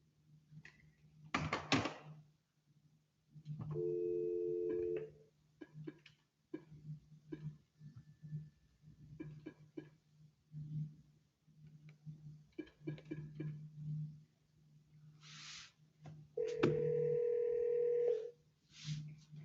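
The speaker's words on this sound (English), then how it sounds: "I'm going to call you back and see if we can put you on a speakerphone" A telephone call is placed from a courtroom: a steady dial tone, then a run of short keypad beeps and a ringback tone, all fairly faint and alone, with small clicks and handling noises in between.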